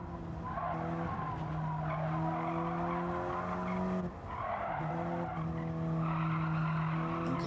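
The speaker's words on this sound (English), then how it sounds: "You can just hear how difficult it is to stop this car from sliding around." Race car in the Gran Turismo 7 racing game sliding with continuous tire skidding and squeal over a steady, loud engine drone, with a brief dip near the middle before the screech resumes.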